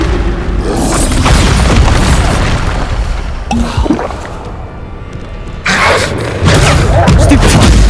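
Spell explosions from the Bombarda charm in the Hogwarts Legacy video game, loud booming blasts and crashing bursts in quick succession over a dense, continuous game soundscape, with a short lull midway before the blasts resume.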